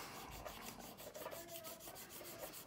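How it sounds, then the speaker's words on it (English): Coarse sandpaper lightly rubbed over a plastic canopy on a 1/48 scale F-15E model kit, a faint, close, rhythmic scratchy rasp of repeated short strokes with no talking. "I'm just going to lightly sand this. So I'm just going over with the coarse,"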